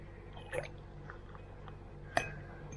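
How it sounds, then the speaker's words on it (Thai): Water poured into the tank of a toy jet car, a quiet liquid trickle with two sharper splashy hits, the louder one near the end, in a fairly still room. "เติมน้ำเนี่ยเติมน้ำใส่เข้าไป"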